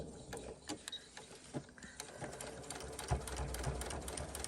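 A sewing machine top-stitches a bucket hat, its needle tapping out a fast, steady mechanical rhythm close up and fairly quiet, with a slight whir underneath.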